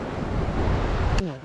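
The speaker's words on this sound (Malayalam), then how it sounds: "ലഗൂൺസിൽ വന്ന് ഈ തിരമാല അടിച്ചിട്ട് പതുക്കെ ഇങ്ങോട്ട് വരത്തുള്ളൂ." Sea waves surging into the Lakshadweep lagoon with a steady wash of surf and wind noise, then cutting off abruptly near the end.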